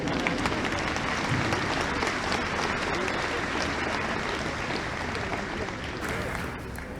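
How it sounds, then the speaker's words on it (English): An audience at a UT Dallas commencement ceremony applauds steadily, a dense wash of clapping from many hands that carries on throughout and tapers only slightly near the end. "Okay, we're going to clap for the program anyway."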